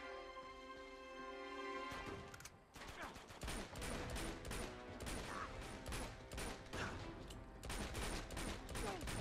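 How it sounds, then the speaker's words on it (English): Dense gunfire from a gunfight in the video game Uncharted 2: Among Thieves, with rapid overlapping shots and bursts firing almost continuously after a brief lull, loud and close throughout. "In the middle of a gunfight right now."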